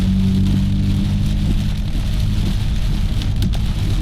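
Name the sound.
afternoon thunderstorm rain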